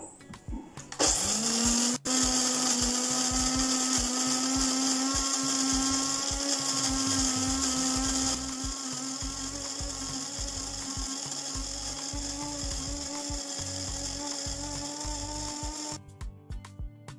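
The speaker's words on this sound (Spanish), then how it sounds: "Voy primero a molerlo, ya que el que tengo es así en grano" Electric grinder milling whole coffee beans at home: a loud high-pitched motor whine starts abruptly, runs steadily with rattling beans, drops slightly in pitch and loudness partway through, then cuts off.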